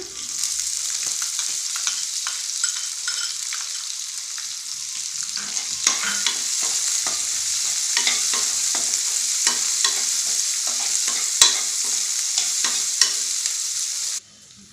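Onions sizzle steadily in a hot pan for sambar, a dense continuous hiss broken by frequent scraping stirs, close and loud with no talking, until the sound stops abruptly near the end.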